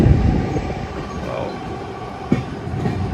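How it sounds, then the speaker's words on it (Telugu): A metro train rolls in at Baiyappanahalli with a deep, continuous rumble and rattling wheels, and one sharp metallic clack partway through. "చూడండి మన మెట్రో ట్రైన్ వచ్చింది"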